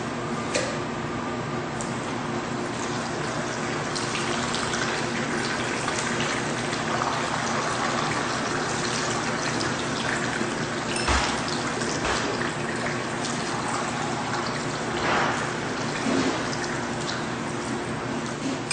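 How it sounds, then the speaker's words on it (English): A bartender pours several shots at once in a multi-pour, liquid streaming and trickling steadily into glasses for the full length, close and loud, with occasional clinks and no talking. "today we're going to learn one of my very favorite moves. It's called the multi-pour"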